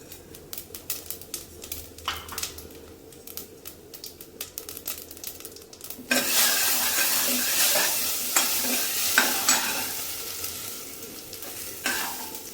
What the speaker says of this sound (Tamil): கடுகு வெடிச்சிருச்சு ஜீரகம் சேர்த்துக்கலாம்